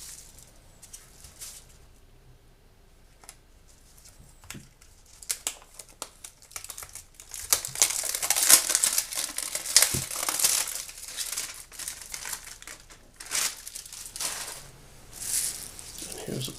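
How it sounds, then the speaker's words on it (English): Granular rustling and crinkling rises and falls as small crystals shift inside a plastic mini dehumidifier, close up, with a quiet voice briefly heard. "And you could hear the crystals inside."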